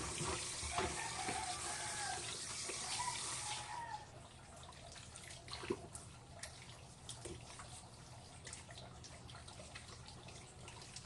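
Running water from a tap pours steadily over cassava being washed, a continuous hissing splash that is louder at first and then softer, with small knocks and splashes from handling and no clear talking.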